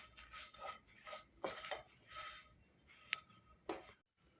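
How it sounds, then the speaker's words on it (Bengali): A spoon scrapes and clinks repeatedly against a bowl while kachori filling of mung dal, gram flour, sugar and salt is mixed, in soft, uneven strokes with short pauses. "এটা আবার খুব ভালোভাবে মিশিয়ে নেব।"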